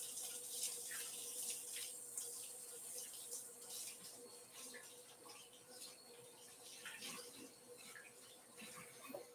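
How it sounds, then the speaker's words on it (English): Tap water runs steadily into a sink as hands are washed in a home kitchen, a soft continuous splashing hiss with faint clinks, fairly quiet and without talk. "Give me a second to wash my hand one more time."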